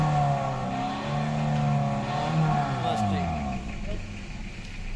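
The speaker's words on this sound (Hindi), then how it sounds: "वो फील्डर की साउंड चेक करवा दो।" A 2007 Toyota Axio Fielder with a 1500cc engine is revved repeatedly, its pitch rising and falling in smooth sweeps, close and fairly loud, with people talking nearby.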